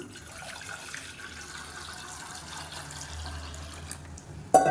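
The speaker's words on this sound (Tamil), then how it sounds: "இதில் வந்து ஒரு லிட்டர் அளவுக்கு தண்ணி சேர்த்துக்கலாம்" Water being poured into a pan, about a litre, to start a betel leaf kashayam in a home kitchen: a faint, steady running hiss that continues throughout, ending with a brief clatter.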